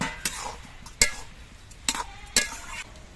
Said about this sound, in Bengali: তার জন্য আমি অল্প একটু জল দিয়ে দিচ্ছি খুব সামান্য জলটা দিচ্ছি